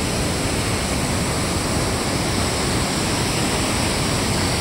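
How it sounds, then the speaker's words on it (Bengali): A forest waterfall plunges down forcefully from a great height, a loud, unbroken roar of rushing water that fills the whole clip. "প্রচুর ফোর্সে জল পড়ছে, দেখুন ঝালে বেরিয়ে যাচ্ছে প্রচুর ফোর্স, অনেক উপর থেকে।"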